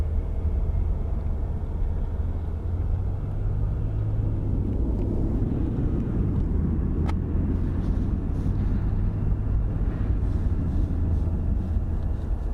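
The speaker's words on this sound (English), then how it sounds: "now we are starting to get some regional jets" Regional jets taxi at Phoenix Sky Harbor International Airport, a steady, loud, broad engine rumble and whine that holds on without breaks, heard up close and with no talking.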